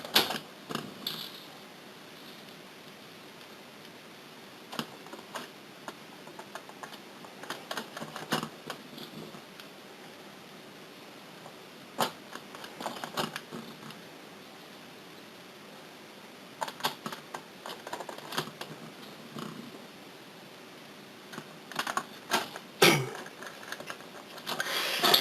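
Screws driven into the cover of a PS4 fat console, heard as quiet, scattered clicks and small ratcheting mechanical ticks in bursts over a low steady background hiss.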